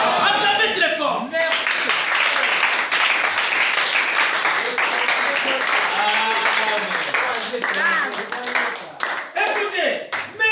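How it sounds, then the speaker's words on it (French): A church congregation at a French-language service applauds loudly, with dense, sustained clapping and cheering voices filling the room and thinning slightly toward the end. "Acclamez très fort."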